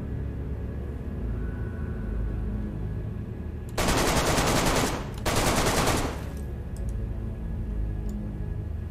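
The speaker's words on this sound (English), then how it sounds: "That was some bad shooting." Two loud bursts of rapid gunfire, each lasting about a second, split by a short gap and standing out sharply against a quiet background hum.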